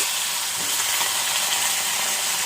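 Eggplant pieces frying in hot oil give a constant loud sizzle and crackle, close up and unbroken throughout.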